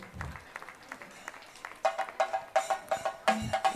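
Audience at a Rajyotsava 2024 stage programme clapping for prize winners, a short burst of fairly loud rhythmic clapping close by that swells in the second half, with a brief voice heard at the start.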